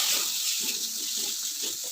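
Salted water is poured into mutton masala during cooking, producing a steady, hissing splash that continues throughout with faint bubbling underneath.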